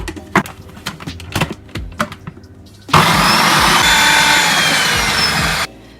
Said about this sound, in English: They're in the kitchen whiz, and we just want to pulse them so they all break up.